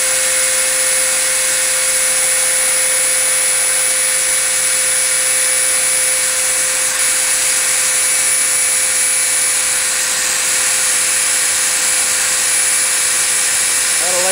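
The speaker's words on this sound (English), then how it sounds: "This is a 15/32 drill bit. Same diameter as my rod." A power drill with a 15/32 inch bit bores a hole sized for a rotor rod while building a wind turbine, a steady high motor whine running loud and continuous the whole time.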